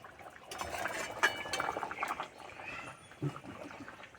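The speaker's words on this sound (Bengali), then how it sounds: "আর কিছুক্ষণ ফুটে নিলে হয়ে যাবে রান্না" A pot of fish curry with new potatoes simmers with fried fish and bori, bubbling softly up close with a few light clinks of utensils.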